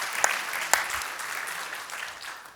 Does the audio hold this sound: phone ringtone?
no